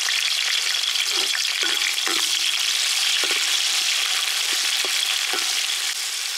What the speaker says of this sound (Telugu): 2 పెద్ద ఉల్లిపాయలు చీలికలుగా కోసుకున్నామండి, 2 టమాటాలు, 5 పచ్చిమిరపకాయలు. ఇవన్నీ కూడా మగ్గనిద్దాం